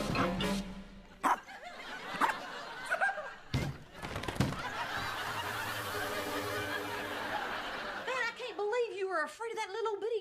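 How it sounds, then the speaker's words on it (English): A small dog yaps and barks in a sitcom scene, the sharp barks mixed in among people talking and audience laughter. "Afraid of that little bitty dog."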